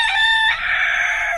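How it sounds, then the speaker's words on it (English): A cockerel lets out a single loud, close crow, bright and strained, rising then held before trailing off, with no other sounds. "That's the cockerel."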